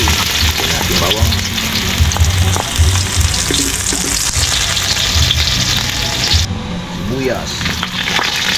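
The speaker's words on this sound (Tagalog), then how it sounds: "Lagay tayo ng mantika mga kabugto. Okay, lagyan natin bawang." Garlic frying in cooking oil in a pan, a loud continuous crackling sizzle up close, with occasional stirring sounds while a person talks over it.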